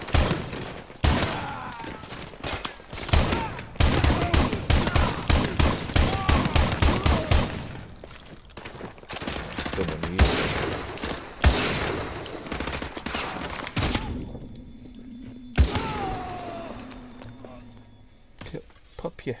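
Shotgun blasts in the remastered Modern Warfare 2 campaign of Call of Duty, a museum level, fire as loud, sharp booms over a dense, busy game soundscape, with shattering and scattered gunfire between the shots.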